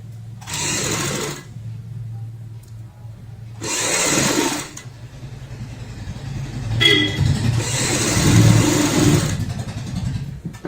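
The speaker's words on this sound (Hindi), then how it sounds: "यहाँ पे ऐसे रखते हुए हम एक पैर की सिलाई लगाएंगे ऐसे" Sewing machine stitching a 1.5-inch cloth strip onto an undershirt, running in three loud bursts of rapid motor whir separated by pauses, the last burst longest, with no talk over it.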